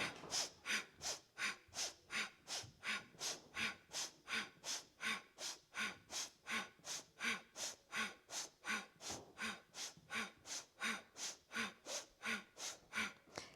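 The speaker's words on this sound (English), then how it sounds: "Breath of fire or smooth, deep breath in and out through the nose." Rapid rhythmic breath-of-fire breathing through the nose, about two sharp forceful exhales per second, steady and even for the whole stretch, close and clear with no talking.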